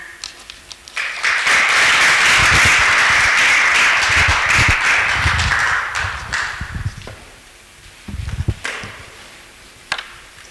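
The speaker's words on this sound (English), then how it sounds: "So a round of applause as we usher her to the stage" A live audience at a small enterprise coaching programme event breaks into loud, sustained applause welcoming a speaker to the stage, swelling for several seconds before thinning into scattered claps and a few final taps.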